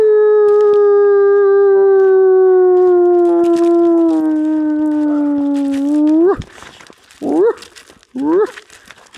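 A wolf lets out one long, loud, steady howl that slides slightly lower for about six seconds, then breaks into a few short rising yips and whines, close by outdoors.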